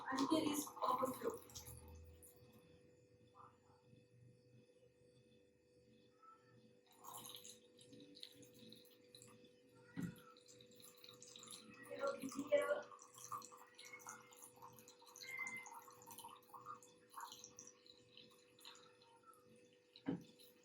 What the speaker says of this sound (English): So now I will pour this water into the first bottle